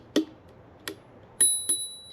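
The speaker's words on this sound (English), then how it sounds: "Oh, that's a cute bell." A small bell on a Hiboy S2 MAX electric scooter is struck four times, each a short bright ding with a brief ring-out, spaced irregularly and heard close and alone.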